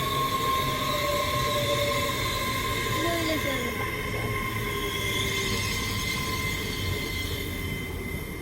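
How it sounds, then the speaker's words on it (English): CrossCountry Class 170 Turbostar diesel unit pulling into Peterborough station, a sustained diesel engine drone with a tonal whine and some faint squealing as it rolls in steadily close by. "Coming in now is a cross-country Turbo Star, worked by 170-639."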